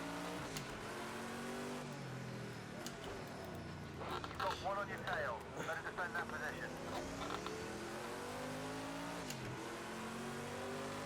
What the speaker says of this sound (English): Sounds maybe a little bit like one of the Jags, or is it a Porsche?